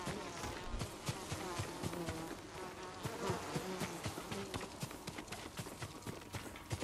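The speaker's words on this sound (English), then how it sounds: "Not now, bees." Bees buzzing in Ghost of Tsushima, a steady insect drone with busy clicking, clopping rhythm layered over it, moderately loud and continuous with no talk.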